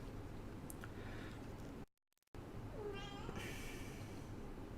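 A house cat meows a few times in the background of a room with steady low noise, with faint talking nearby.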